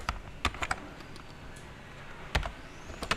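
Keys clatter on a computer keyboard while code is typed, a few quick clustered strokes at the start, a pause, then more taps, close and fairly soft with no talk.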